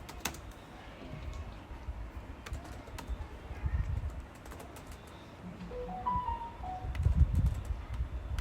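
Someone types code on a computer keyboard, with soft irregular clicks and key taps at moderate distance over a faint room background.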